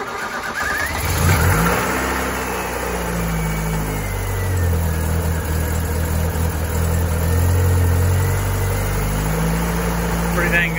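A 1987 Ford Escort GT with a 5-speed starts from cold: the starter cranks briefly, then the engine catches and idles with rising and falling revs, close by, with some speech over it.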